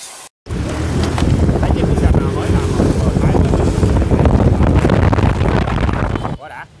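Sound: Honda Vision 110 scooter engine running after Thai clutch install

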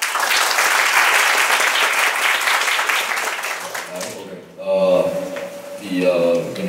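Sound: audience applause at a hip-hop talk

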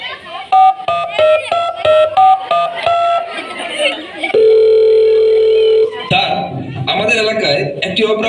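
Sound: telephone dial tone while calling the police

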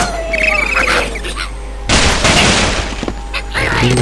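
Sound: ice blocks breaking in the video game Angry Birds Seasons

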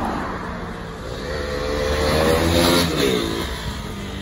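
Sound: motorcycle doing a fast fly-by on a corner

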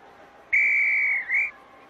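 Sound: whistle sound in the video game I Spy: Fun House

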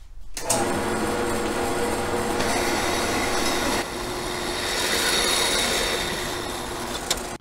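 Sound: bandsaw cutting a long tube

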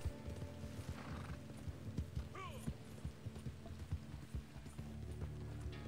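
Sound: horse hooves and neighing in video game

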